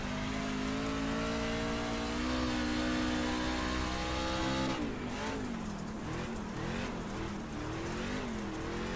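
Dirt truck engine in iRacing at Port Royal, revving loudly and steadily with shifting pitch, then dropping and wavering as the throttle changes.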